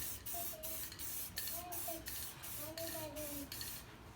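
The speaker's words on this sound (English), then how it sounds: "If you have lots of spray paint, do a couple coats." Spray paint hissing from an aerosol can in a series of short, regular bursts roughly every half second, steady and close, with faint voices and tonal background sounds underneath.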